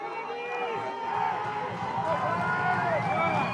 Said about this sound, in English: The crowd is into it now.